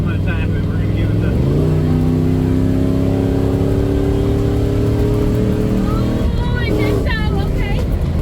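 An LS V8 engine pulls hard at about three-quarter throttle, its loud steady drone climbing in pitch after a brief lull, then easing off near the end as a voice speaks over it.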